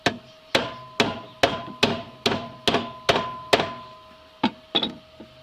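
Steady hammer blows ring on a rusted push mower's metal body, about a dozen evenly spaced clanging strikes with a resonant tone, close and loud, with no talking.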